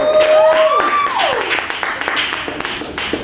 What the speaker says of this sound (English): round of applause for me for getting on stage sober for the first time in a long time